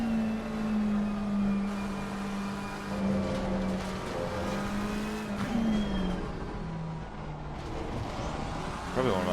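A Lexus race car engine in the video game Assetto Corsa Competizione at Paul Ricard drones steadily with shifting pitch, rising and falling as it revs through gears, continuous and fairly loud.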